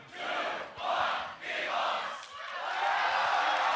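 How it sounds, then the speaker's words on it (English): A crowd at the Grand Beatbox Battle 2023 shouts a countdown in loud, rhythmic group bursts that swell into a sustained roar. "Crowd, I say the 3, y'all say the 2 and the 1."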